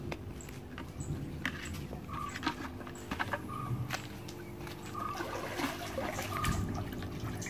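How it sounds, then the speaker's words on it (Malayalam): Salt is stirred into water in a roughly 10-litre plastic bucket, giving faint, soft sloshing and trickling with small splashes throughout. "ഈ ബക്കറ്റിൽ നമുക്ക് ഉപ്പ് കലക്കണം"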